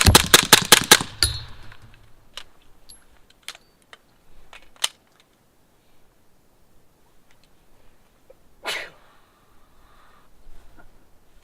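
Rapid burst of suppressed shots from a CZ Scorpion Evo pistol with a Dead Air Ghost M silencer, 147-grain subsonic ammunition, followed by scattered single cracks, faint clinks and steel target hits at intervals.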